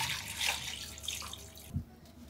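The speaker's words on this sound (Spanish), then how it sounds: "Vamos a ponerle agua" Tap water runs and splashes into a pressure cooker pot being filled for cooking pork picadillo, a steady close rush that stops abruptly near the end with a brief low thump.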